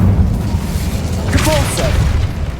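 In Hogwarts Legacy, the Incendio fire spell is cast as a single booming burst with a short whooshing flare midway, set over a low, steady rumble.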